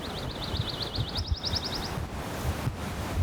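Strong wind on a hilltop roars steadily into the microphone with gusty rumbling, while a bird's brief rapid trilling call rises faintly above the noise.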